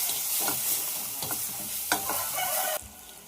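Fish pieces with rock salt and chili powder are stirred in a hot pan, with repeated scraping strokes over a steady close sizzle, and the stirring stops near the end.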